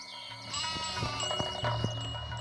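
Goats herded by a shepherd bleat in a close, wavering cry, with a few short bleats and light rustling over the remaining couple of seconds.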